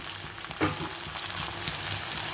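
Tomatoes sizzle in hot oil for oily brinjal kuzhambu, a steady close crackle that runs throughout with a brief stirring clatter near the start.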